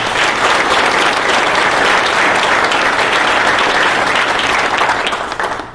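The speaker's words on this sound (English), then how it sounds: "would you give them a round of applause for all that they have done" A large audience at a Habitat for Humanity fundraising luncheon gives a sustained, dense round of applause, loud and steady throughout before tapering off at the end.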